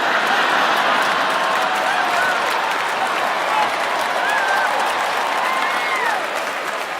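Audience applause fills a stand-up comedy show, dense sustained clapping from a large crowd that stays loud and even for the whole stretch, with scattered voices mixed in.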